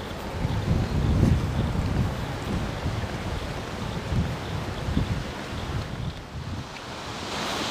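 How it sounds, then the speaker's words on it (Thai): Wind blowing hard at the seashore at Hua Hin, Thailand, where kiteboarders ride: a steady, loud, gusty roar buffeting the microphone throughout, with surf washing underneath. "แล้วก็มาถึงทะเลแล้วนะครับลมดีนะครับ"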